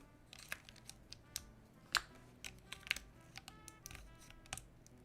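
Typing on a mechanical computer keyboard fitted with PC keycaps: quiet, irregular clicky keystrokes tapped close by, with a few sharper, louder presses scattered among softer ones.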